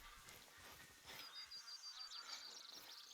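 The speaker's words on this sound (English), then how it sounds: "Mallards." Mallard ducks in the video game The Hunter Call of the Wild giving faint, distant honking quacks scattered over a low outdoor background, quiet and irregular.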